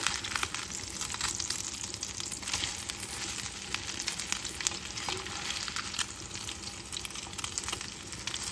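Salmon patties frying in oil in a pan, a steady, close sizzle with fine crackling pops throughout and no talking.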